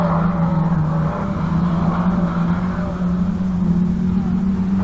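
Autograss race cars, including saloons, drive round a dirt track at St Neots, making a loud, steady engine drone with a constant low hum that carries throughout.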